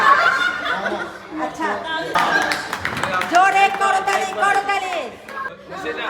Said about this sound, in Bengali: আচ্ছা, জোরে করতালি করতালি